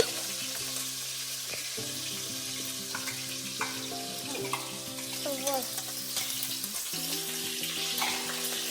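Green chillies and cumin seeds sizzle steadily in hot oil, a continuous bright crackle with occasional sharper pops, lightly clattered by a stirring spoon, under tonal background music.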